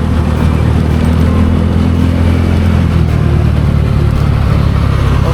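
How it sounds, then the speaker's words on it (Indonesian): A motorcycle engine runs close and loud on a road ride toward Cisadane, its exhaust popping and backfiring over a steady low rumble, with no talking. "Waduh, nembak-nembak aja knalpot."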